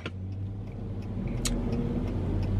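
A car engine rumbles steadily close by on a street, a continuous low motor drone that swells slightly toward the end as the vehicle moves past, with a few faint ticks over it.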